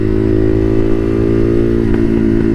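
A motorcycle engine runs in third gear at steady high revs, giving a loud, continuous buzzing drone up close with wind rush and no pauses.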